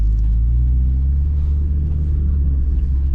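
A UAZ Patriot drives through larch forest-tundra in deep cold, giving a heavy, steady low rumble of engine and tyres heard from inside the vehicle, loud and continuous, with no talk.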